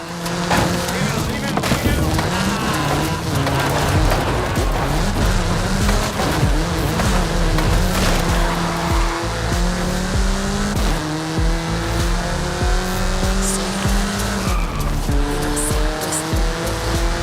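A car in the racing game Forza Horizon 5 accelerates hard, its engine revving up and down through gear changes while tires squeal and skid, loud and continuous throughout.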